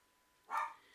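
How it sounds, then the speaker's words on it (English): A dog gives a single short bark at middling distance, alone against a quiet room. "I'm so sorry for my dogs. They bark at nothing."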